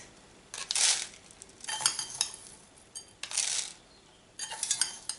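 Loose bonsai-mix potting medium of coarse grit and bark is scooped and poured while an orchid is repotted, heard as four separate bursts of rattling, clinking granules close by with quiet pauses between them.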